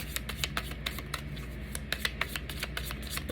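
A tarot deck is shuffled by hand in a quiet room, producing quick, soft, evenly paced card slaps and riffles that repeat steadily throughout.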